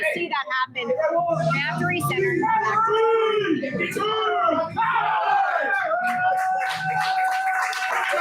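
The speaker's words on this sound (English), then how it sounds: "you see the crowd firing up" Spectators at a grappling superfight yell and cheer continuously, with loud excited shouts rising and overlapping throughout; the crowd noise stays dense and close, no quiet gaps.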